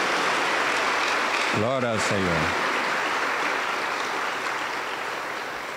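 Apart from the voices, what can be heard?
church congregation applauding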